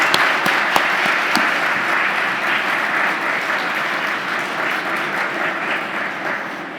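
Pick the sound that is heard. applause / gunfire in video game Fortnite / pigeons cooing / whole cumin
applause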